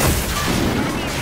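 Gunfire in a first-person shooter video game: a short, loud burst of booming shots filling the brief moment, close and harsh.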